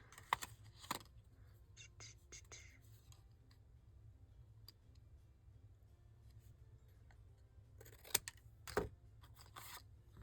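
Scissors snip a paper gift tag in a few quick crisp cuts near the start and again near the end, close but quiet, with a hushed room between.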